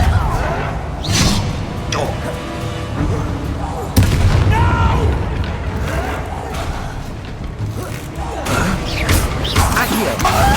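Repulsor spell cast in Hogwarts Legacy during combat, a heavy booming impact amid layered crashes and magical effects, loud and sustained with a sharp hit midway and voices in the battle.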